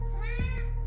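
A house cat gives a single short meow up close, rising then falling, over a steady low hum.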